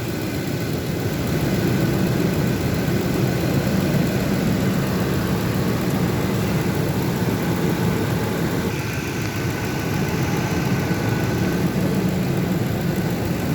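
A truck engine idles steadily, a continuous low rumble with a faint high whine running throughout, fairly close and unchanging, with no talking over it.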